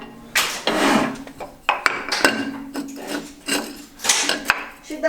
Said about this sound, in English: To the bandsaw.